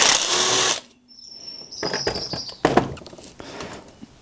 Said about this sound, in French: vous pouvez les dévisser à la clé à choc, les vis